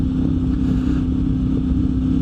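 A CFMOTO 450 MT motorcycle cruising in 4th gear at 60 around 3,800 RPM, a loud steady engine drone with a constant low hum and wind rush, no shifts or revs.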